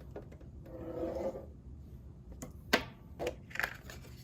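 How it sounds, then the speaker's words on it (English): A scoring tool is drawn along the short side of a paper sheet at half an inch for a mini album, making soft rasping scrapes followed by a few sharper taps and rubs, quiet and close. "Going to bring in our scoring tools, and we're going to score on the short side at a 1/2 inch"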